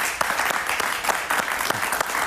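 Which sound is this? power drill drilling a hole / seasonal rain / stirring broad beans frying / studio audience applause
studio audience applause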